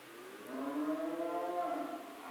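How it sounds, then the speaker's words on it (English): Cows mooing at a dairy farm in the truck-driving game American Truck Simulator, one long, drawn-out moo with a rising, wavering tone, fairly faint and heard alone. "You guys can hear all the cows next to us."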